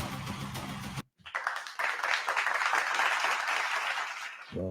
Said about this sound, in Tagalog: So, kita mo naman, may palakpak pa.